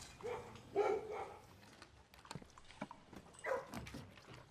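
Dogs in the video game Blue Prince give soft whimpers and whines in a few short, scattered bursts, quiet and close, with no talking over them.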